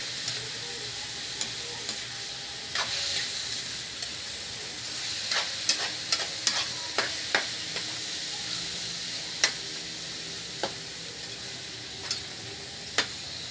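Chili peppers sizzle and fry in a pan over a lowered flame in Bicolano home cooking, with a steady hiss broken by sharp clicks and scrapes of a utensil stirring against the pan.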